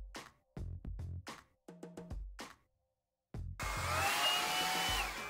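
After a few clicks and short tones from switching settings, a hair dryer on its cool-air setting starts up and blows with a steady close whooshing hum that runs to the end.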